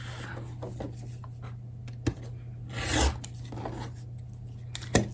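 Close, brief scraping and snipping as fabric is trimmed during foundation paper piecing of a Milkmaid's Star quilt block, with a small burst of rubbing near the middle.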